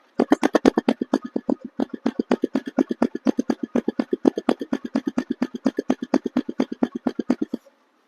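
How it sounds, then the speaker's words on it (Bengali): A motorcycle engine idles on its own with no throttle, giving a steady, close, loud train of rapid even pulses that runs for about seven and a half seconds and then cuts off into silence. "তো আপনারা দেখলেন এই বাইকটির সাউন্ড কন্ডিশন এখন আমি পিক হাত না দিয়ে শুধুমাত্র স্টার্ট অবস্থায় সাউন্ডটা শুনবেন"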